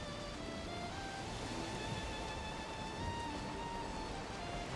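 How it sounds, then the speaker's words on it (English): Light rain in a Valheim-style survival game, a steady soft patter at sea while a small boat is rowed against the wind, with faint tonal music lines drifting over the continuous hiss. "A light rain now."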